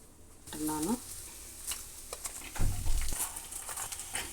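Peanuts and capsicum pieces fry in a pan, giving a steady sizzle with stirring scrapes and light patter, plus a brief voice-like sound near the start.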